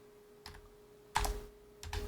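Three short, quiet bursts of computer keyboard keystrokes are spread across a couple of seconds in a quiet room.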